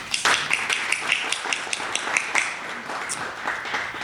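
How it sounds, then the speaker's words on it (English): An audience at a library friends' annual meeting applauds: a dense, steady patter of many hands clapping that holds for a few seconds and then thins slightly. "So let's give her a round of applause."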